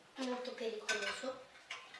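A small dessert fork clinks against dishes in a few sharp, light taps close by. The taps are scattered unevenly over a couple of seconds at low volume.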